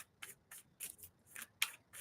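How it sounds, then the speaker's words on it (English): Tarot cards being shuffled by hand, heard as soft, quick papery riffles and brushes that come in short, evenly spaced bursts against a very quiet background. "I'm going to start shuffling for tarot."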